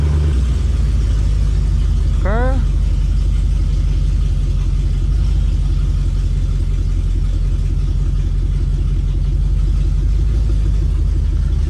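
A Mercedes C63 AMG engine runs with open aftermarket headers: a loud, steady, deep exhaust rumble throughout, close up and with no talk over it.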